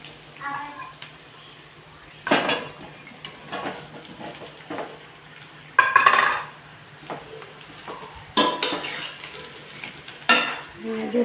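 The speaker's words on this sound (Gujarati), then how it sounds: "અહીંયા જો રાઈ તલ ડુંગળી બધું નાખીને અહીંયા મસ્ત શેકાવા દઈએ થોડું" Mustard seeds, sesame seeds and onion frying in a pan for bhajiya, a soft sizzle broken by repeated loud metallic scrapes and clatters of a spoon against the pan.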